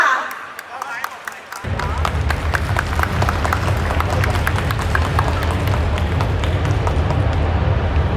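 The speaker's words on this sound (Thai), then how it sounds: "ขอเสียงปรบมือกับท่าน" Audience applause at a technology product launch breaks out suddenly, a dense, loud, sustained clapping from a crowd that continues unbroken to the end.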